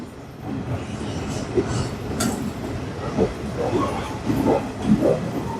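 Godda–Tatanagar Express pulling into platform 2 at Bokaro Steel City, a steady low rumble of rolling wagons with faint clicks and brake hiss, close by, with occasional voices in the background.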